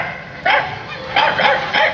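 A man imitates a dog barking on stage, giving one yelp followed by three quick bow-wow barks in a row, loud and close, with no other talk.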